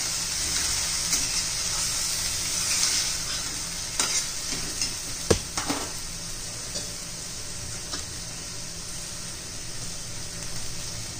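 Green beans being stirred as they sizzle in a pan, with a loud, constant frying hiss and occasional sharp scrapes and taps of the utensil.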